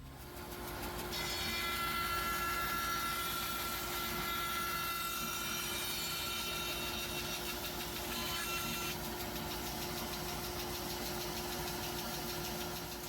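Bandsaw cutting a wooden heel hook for a pushstick contact footing, a steady motor hum with a sustained higher-pitched cutting whine through the middle of the clip.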